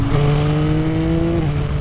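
Exhaust of a parallel-twin naked motorcycle, a steady, close, droning engine note that holds an even pitch throughout with no talk over it.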